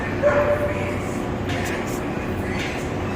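A dog barks and whimpers in short, yelping bursts over a constant low rumble of background noise, moderately close.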